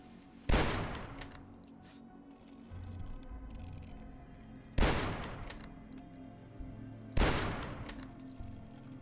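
Three loud, booming hunting rifle shots from the retro shooter game Dusk, spaced a few seconds apart, each with a sharp crack and a long rumbling tail over a low ambient game drone.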